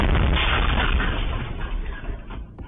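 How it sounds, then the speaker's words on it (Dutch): An explosion goes off at the front door of a house on a residential street at night, a loud booming blast whose rumble decays over a few seconds, heard through security camera audio. "als hij razendsnel zorgt voor een enorme explosie zometeen bij hun voordeur"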